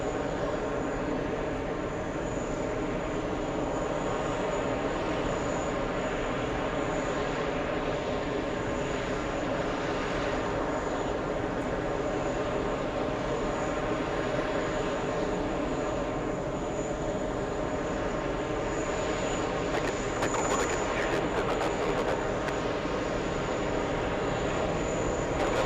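A French government aircraft comes in to land, its engines a constant droning roar at a steady distance that does not let up.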